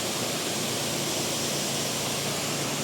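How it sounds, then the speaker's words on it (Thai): Steady broadband rushing of a waterfall in Phu Wua Wildlife Sanctuary, Bueng Kan province, Thailand, continuous and fairly close with no voices over it. "นี่น้ำตกเหมือนกัน"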